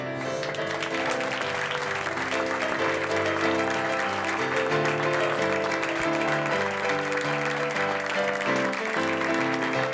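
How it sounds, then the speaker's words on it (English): An audience claps steadily and continuously, the applause blended with loud music playing underneath for the whole stretch. "Let's give a big round of applause to our two contestants"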